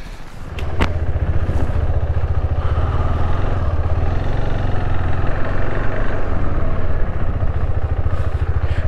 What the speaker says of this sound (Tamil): பைக்கில் போய்ட்டு கண்டினியூ பண்ணுறேன்.